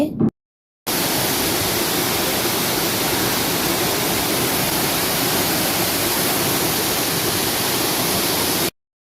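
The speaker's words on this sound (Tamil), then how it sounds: "அந்த தண்ணி கொட்டுற சத்தத்தை கேட்டாலே எங்களுக்கு மனசே அவ்வளோ கூலாகிரும்" A waterfall pouring water, heard as a loud, dense, unbroken roar of white-noise-like rushing that starts abruptly after a brief silence and cuts off just as suddenly near the end.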